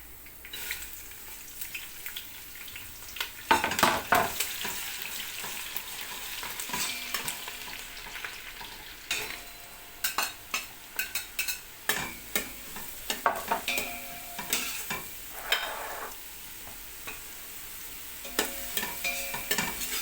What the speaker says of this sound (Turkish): Mantarlar güzel iyice kavrulsun.